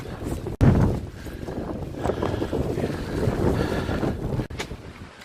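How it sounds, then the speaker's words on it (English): Strong wind buffets the microphone on an exposed winter walk up Pendle Hill, roaring steadily for several seconds with sharp gusty bursts and brief dropouts, no voices heard. "Windy out here."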